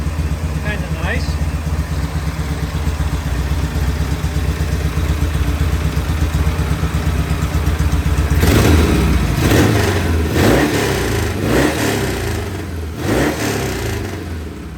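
Vintage British motorcycle engine idling steadily at about 1,000 RPM, then revved in several sharp bursts that rise and fall, loud and close, with a voice talking over it.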